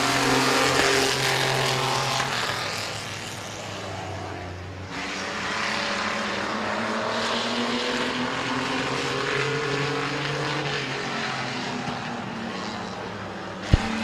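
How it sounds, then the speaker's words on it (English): Mini trucks racing on a speedway after the green flag: a steady, loud roar of several engines droning and shifting pitch as they run laps, continuous throughout with a brief sharp knock near the end. "Green flag is in the air for your mini truck pursuit."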